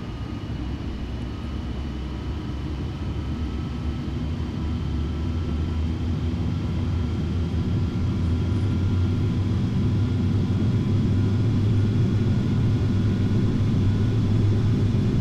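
Airliner jet engines spool up to takeoff thrust in the FSX flight simulator game, a steady loud roar with deep rumble that builds and swells over the full run, continuous and close, with no voices.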